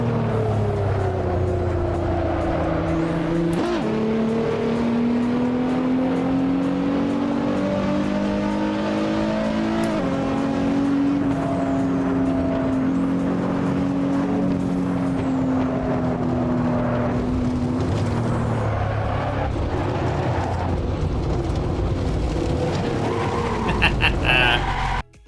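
A Nissan GTR engine drones steadily in a racing video game, its pitch rising and falling through gear changes, loud and continuous throughout with a voice talking over it.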